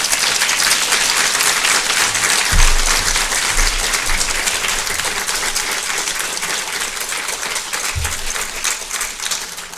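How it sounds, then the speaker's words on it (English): Sustained applause from a conference audience at a survivors' support event, even dense clapping throughout with a few low thumps, no speech over it. "I hope you could hear all the applause you got there"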